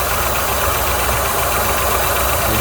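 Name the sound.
1981 Pontiac 305 engine idling rough, stalling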